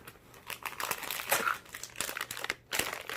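A Starburst Minis snack wrapper crinkles and rustles inside a pack's side pocket. The crackling is close and continuous, with brief bursts of crunching and no talking.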